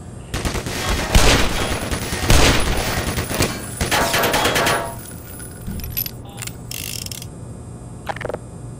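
Pistol fire in Black Mesa: rapid bursts of shots for several seconds, followed by quieter mechanical clicks and clatter, with no talking.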